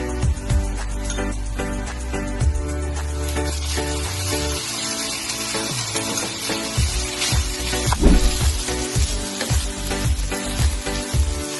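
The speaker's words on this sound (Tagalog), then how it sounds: "sinunod naman namin ang paggisa ng bawang at sibuyas kasama ng giniling" Garlic and onion sautéed with ground meat in a hot pan for siomai rice, a loud continuous sizzle with occasional scrapes and stirring knocks, close up and without talk.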